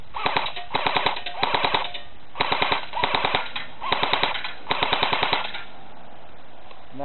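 A JG AK47 airsoft rifle firing full auto, close and loud, in about seven short rattling bursts with brief pauses between them, no voices.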